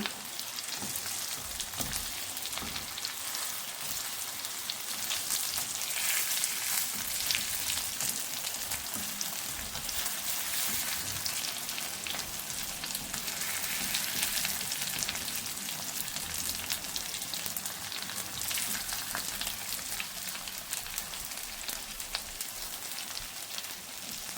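Heerekai ennegai, a stuffed ridge gourd masala, fries in a pan with a steady, close sizzle that holds for the whole stretch, broken by occasional soft stirring scrapes.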